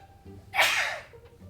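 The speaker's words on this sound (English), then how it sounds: "I'm gonna sneeze." A single loud sneeze bursts out close by after a brief quiet moment, then trails off.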